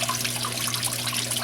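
Water from a recirculating pump runs steadily through a fine gold recovery bowl, a continuous splashing, trickling flow with a low mechanical hum beneath, close and uninterrupted.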